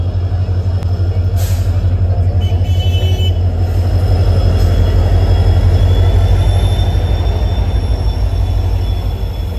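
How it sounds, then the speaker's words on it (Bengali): A train pulling into a station platform in hot weather: a loud, steady low rumble of the rolling train with faint brief squeals and hisses above it, and no clear talking. "এই ট্রেন ঢুকে গেছে।"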